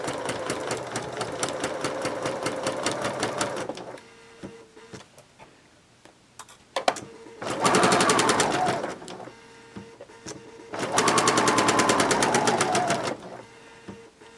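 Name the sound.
sewing machine sewing skirt seam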